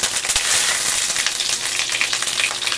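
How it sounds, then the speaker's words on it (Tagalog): Cooking oil sizzles hard in a pan on an Astron Powerheat1 infrared cooktop, a loud, steady, crackling fry with bright spattering pops throughout, close up and without talk. "So, ilalagay ko na yung mantika dito."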